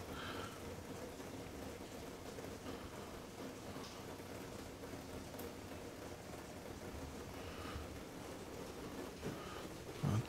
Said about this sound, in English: It's been raining for a while now,